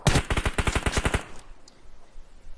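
Rapid automatic gunfire bursts loudly for about a second in a mobile battle royale esports match, then cuts off into a quiet, low ambient rumble.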